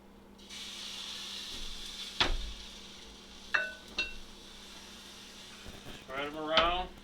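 Egg crepe batter frying in a little olive oil in a hot pan gives a steady low sizzle throughout, with a few sharp utensil clinks and a voice talking near the end.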